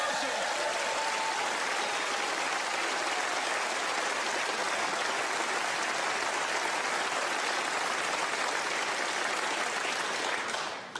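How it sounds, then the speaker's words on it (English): Dense, sustained audience applause for the runner-up after the English Open 2017 snooker final, a broad even roar of clapping that holds steady for about ten seconds and cuts off abruptly. "A round of applause for our runner-up."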